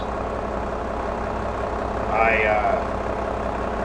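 An old air-cooled tractor engine runs at a steady low idle, a constant rumble close by while someone talks over it.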